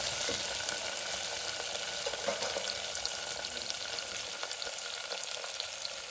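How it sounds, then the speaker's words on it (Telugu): A dal tempering of dried red chillies, curry leaves and coriander fries in hot oil with a steady, dense crackling sizzle, moderately faint and continuous without talk. "ఎండుమిర్చి కూడా కొంచెం వేగిన తర్వాత కొంచెం కరివేపాకు, కొంచెం కొత్తిమీర వేసి"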